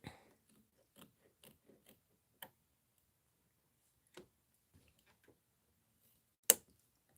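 Kimberbell snips cutting felt give a series of sparse, faint, crisp clicks and snips at irregular intervals in a quiet room, ending with one sharper, louder snip.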